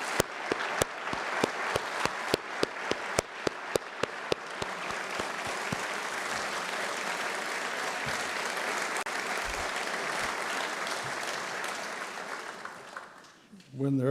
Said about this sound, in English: can we then thank you with your applause?